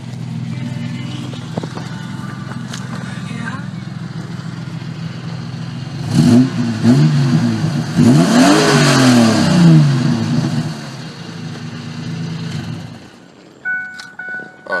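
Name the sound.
1998 car engine revving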